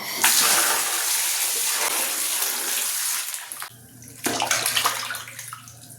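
Water runs from a tap to wash fish, a steady broadband gush that stops briefly and then resumes with more splashing and sloshing near the end.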